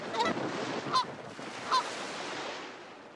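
Wild Canada geese honk out in the open during spring breeding season, three distinct honks spaced about a second apart over faint steady background noise, with no narration over them.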